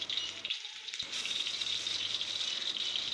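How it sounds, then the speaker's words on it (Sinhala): Crushed ginger and garlic sizzling steadily in hot oil in a pan, a close, continuous crackling fry with a brief dip in the noise early on. "ඉතින් ඔන්න තෙල් ටික රත් වුණාම තලාගත්ත ඉඟුරු සුදු ලුණු ටික අපි එකතු කරා."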